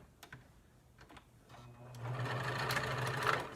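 A sewing machine top stitching close to the edge of a fabric face mask, starting with a few quiet needle taps, then running steadily and louder at close range with a continuous mechanical whir.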